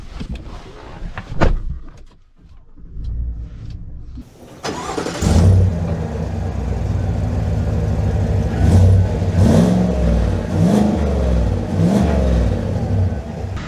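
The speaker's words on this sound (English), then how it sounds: "we are setting off in the ZR2" A 2024 Chevy Silverado ZR2 pickup with a V8 starts up after a few quiet clicks and door sounds, then idles and revs steadily as it pulls away, loud and close.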